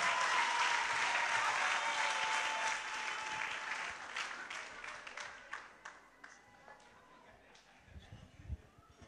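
Applause from a large audience at a church gathering, a dense, loud burst of clapping that gradually thins and fades, with a voice speaking near the end.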